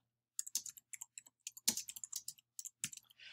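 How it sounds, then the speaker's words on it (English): Crisp keystrokes on a computer keyboard while typing text into a web page editor, irregular bursts of close clicks separated by short pauses, with a heavier key strike midway and no voices. "And then you type again."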